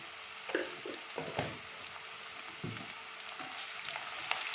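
Onions fry in a pan with a pinch of salt and sugar for Sunday mutton curry, a steady soft sizzle broken by several scraping stirs, heard up close and quiet with no talk.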